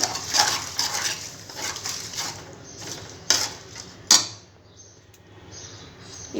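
Turmeric being stirred into green chillies in a pan makes a run of scraping, clinking strokes. Two sharper knocks stand out near the end, then the stirring fades to a quieter rustle with no talking.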